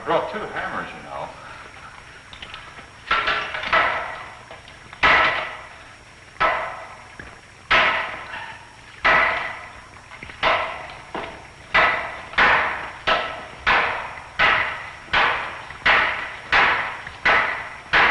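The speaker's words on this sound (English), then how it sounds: "I brought 2 hammers, you know." Two hammers pound at a wall in a 1951 film scene, striking in sharp, loud blows that come sparsely at first and then settle into a fast, steady rhythm. Voices are heard early on.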